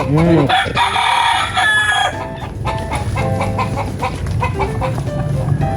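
A rooster crows loudly nearby at the start, then other chickens cluck and call amid busy farmyard noise.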